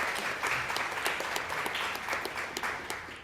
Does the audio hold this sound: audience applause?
yes